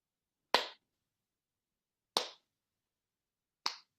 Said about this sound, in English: That was the best clapping I've ever heard in my entire life.